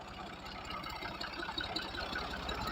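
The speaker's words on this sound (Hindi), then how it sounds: "थोड़ा सा रोक दें, ये ट्रैक्टर चला जाए" Tractor engine running steadily nearby on a village road, a continuous low rumbling drone with a faint knocking pulse that holds even over a few seconds, no talk.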